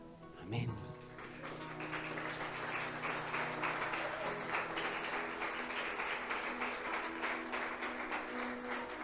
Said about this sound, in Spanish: Gracias por el aplauso porque ya no tenía aire.